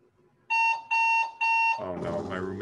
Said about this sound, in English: Oh no, my roommate's alarm is going off.